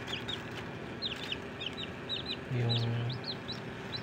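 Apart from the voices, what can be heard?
chick from hatching brown egg in DIY incubator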